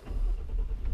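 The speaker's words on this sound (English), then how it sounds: "And so when you start your truck" Ford EcoBoost truck engine cranking and catching, a short, close, loud low rumble that swells briefly as it starts, with no voices.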